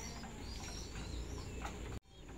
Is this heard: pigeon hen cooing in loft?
yes